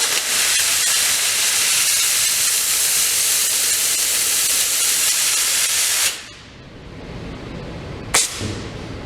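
Sprayable seam sealer gun spraying onto a panel from an inch or two away gives a loud, continuous pneumatic hiss for about six seconds, then cuts off, followed by a brief second hissing burst.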